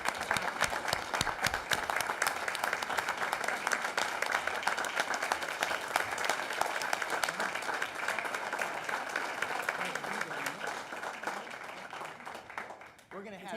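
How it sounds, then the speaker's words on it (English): Sustained audience applause fills a school board meeting room, dense and even for over ten seconds before tapering at the end, with some voices underneath. "let's give them a round of applause"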